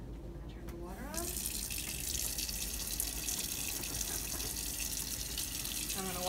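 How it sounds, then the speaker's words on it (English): A sink tap is turned on for hand washing and runs in a steady, close, continuous rush of water until the end, after a brief quieter moment at the start. "I'm going to turn the water on."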